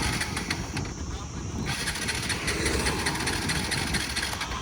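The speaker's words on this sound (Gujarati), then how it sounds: "ચાલુ નથી થતી, એટલે કંઈક એન્જિનમાં વાંધો હશે" A car engine with a fault cranks on and on without catching, a steady mechanical churning throughout, with a voice faintly present in the background.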